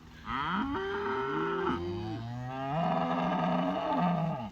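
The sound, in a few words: cattle (heifers and bulls) mooing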